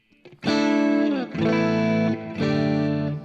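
An electric guitar through a Dimension-style chorus effect plays three sustained, shimmering chords, loud and close, with a slightly driven tone and a wide, swirling modulation.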